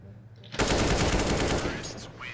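A dense burst of rapid automatic gunfire from the video game CS:GO erupts suddenly after a brief quiet moment, then sustains loud and continuous before tapering slightly.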